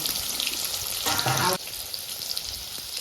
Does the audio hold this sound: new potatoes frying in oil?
yes